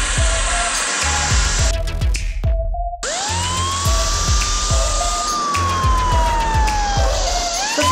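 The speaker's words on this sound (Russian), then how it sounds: "Это мы с мигалкой, ребята." Siren of a toy police Lada Vesta car, a loud rising and falling electronic wail with a steady rhythmic pulse underneath, close and continuous.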